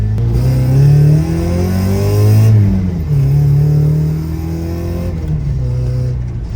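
A Mazda Miata with a new, larger exhaust accelerates hard from close by, its engine note climbing through two rising pulls with a brief drop for a shift between them and a softer falling tone at the end.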